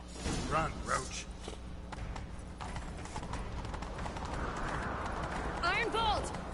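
Geralt's horse Roach gallops in The Witcher 3, a quick rhythmic clip-clop of hooves that runs steadily throughout, with a whoosh of movement and voices speaking over it.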